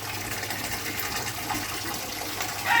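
Water churns and gurgles steadily nearby in a concrete pond with a DIY filter, a continuous swirling wash that swells slightly at the end.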